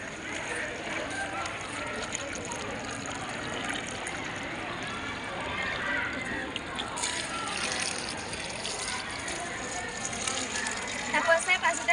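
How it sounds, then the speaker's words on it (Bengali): Water is poured from a 3-litre bucket into a 5-litre bucket during a classroom practical, making a steady trickling, splashing stream. It runs for several seconds and grows a little louder near the end, with voices talking in the background. "তাহলে আমরা 3 লিটার বালতি 5 লিটার বালতিতে ঢালবো"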